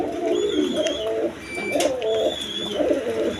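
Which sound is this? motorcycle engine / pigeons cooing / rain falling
pigeons cooing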